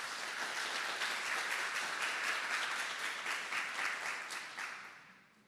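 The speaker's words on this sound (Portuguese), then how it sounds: "eu peço uma salva de palmas" An audience at a 30th anniversary celebration of a Spiritist doctrine course bursts into applause, a fairly faint, dense patter of many hands that holds steady before tapering off at the end.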